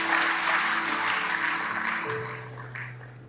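A church congregation claps together in sustained, dense applause that fades slowly toward the end, with faint sustained tones from instruments behind it.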